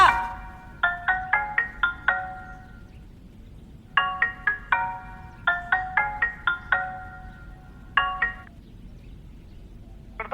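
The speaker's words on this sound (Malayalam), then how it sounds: "അങ്ങനെ ഫോൺ അടിക്കണ." A phone ringtone plays in a kitchen, repeating short bursts of bright electronic tones in groups, clear and fairly close, with pauses between the rings.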